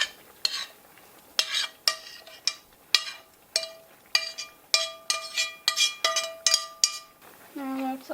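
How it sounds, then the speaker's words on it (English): Seasoned ground pork added to a pan of vegetables and worked with a metal utensil, giving a string of bright clinks and scrapes against the pan in an uneven rhythm, with faint sizzling between strikes. "Now I'm going to put this in the other pan with the vegetables for it to finish cooking."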